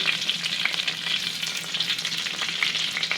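Oil crackles and sizzles in a hot pan, a dense, steady frying hiss close up with no voices.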